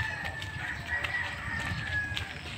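Chickens at a village coop in the Philippines, passed on a walk: faint crowing and clucking calls sit over steady low rumble and footstep noise, fairly distant and continuous, with no clear talk.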